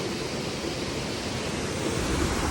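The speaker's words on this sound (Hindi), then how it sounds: "इसके लेफ़्ट साइड पे है एक दरिया जिसके पानी की आवाज़ किसी म्यूज़िक से कम नहीं" Steady rushing of a river flowing beside the Kareri lake trail in the mountains, a continuous broadband water roar, close and fairly loud, with no voices.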